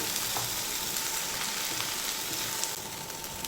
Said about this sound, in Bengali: এবার আরও কিছু সময় এইভাবে একটু ভাজা ভাজা করে নেব